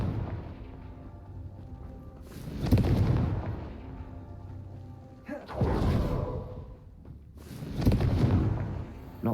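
Three booming spell blasts from the Confringo fire curse in Hogwarts Legacy, spaced a couple of seconds apart, each a loud burst with a rumbling tail over a low droning game backdrop.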